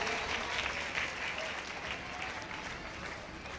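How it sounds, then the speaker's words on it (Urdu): A Catholic church congregation in Lahore claps in loud, steady applause during a coronation ceremony, dense overlapping hand claps continuing evenly throughout with no talk over them. "آپ کی زوردار تالیوں میں"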